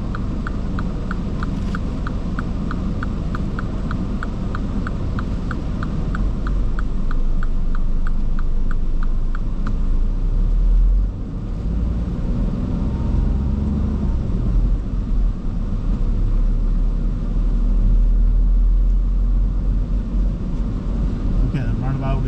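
A learner driver's car pulls away from the roadside during a mock driving test in Swindon, its engine a steady low rumble heard from inside the cabin, with slight surges partway through.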